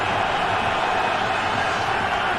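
Dense, unbroken roar of a Canadian Football League stadium crowd at a Blue Bombers–Argonauts game, loud and close, building ahead of a big second-down play with no clear talk over it.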